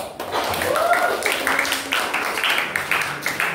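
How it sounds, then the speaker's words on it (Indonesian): Audience applause in a classroom or seminar, a dense run of hand claps lasting several seconds at moderate loudness, with a voice talking over it. "Kasih tepuk tangan dulu dong"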